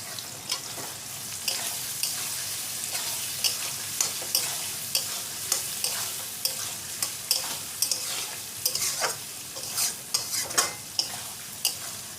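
Chicken seasoned with pepper fries in a pan for egg chicken pasta, a soft steady sizzle broken by repeated scraping and tapping knocks from stirring with a utensil, all close by.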